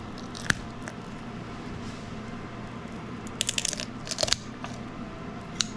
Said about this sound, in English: but we're going in with the scissors